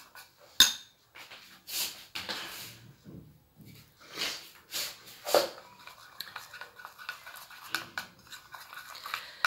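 Spoon scraping and clinking against a bowl while a honey and flour face mask is stirred, with irregular close taps and scrapes in a quiet room, no talking.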